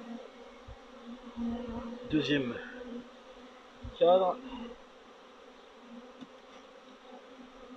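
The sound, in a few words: honeybees buzzing around shaken hive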